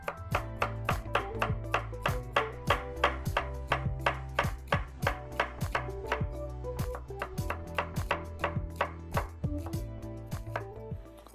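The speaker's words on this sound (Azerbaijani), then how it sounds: "Soğanları da hər zamanki kimi uzun-uzun doğradım ki, soğanın dadı və görüntüsü bəlli olsun." A knife chops onions lengthwise on a board in a home kitchen, giving sharp, evenly spaced cuts in a steady rhythm that are close and clear, with light background music underneath.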